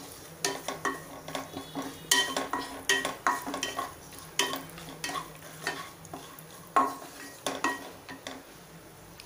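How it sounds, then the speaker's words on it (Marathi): Cashews and almonds are stirred and fried in hot ghee in a pan, with a spoon scraping and clinking against metal in irregular bursts over a soft sizzle. "तूप छान गरम झाले, त्यात हे काजू बदाम आपल्याला परतून घ्यायचे"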